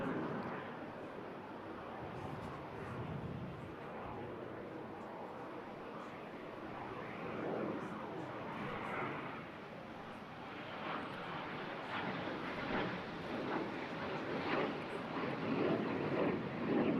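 Display aircraft flying at the Eastbourne International Airshow 2024 give a steady, fairly distant engine drone that swells gradually louder toward the end, with broadband outdoor noise throughout.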